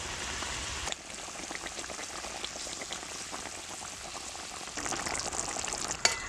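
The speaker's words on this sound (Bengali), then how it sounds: "আমি ভাজা মাছগুলো দিয়ে দিচ্ছি এক এক করে" Pieces of fried bhola fish go one by one into a simmering, bubbling fish gravy. A steady sizzling hiss runs throughout, with a bump in loudness near the start and a sharp clink toward the end.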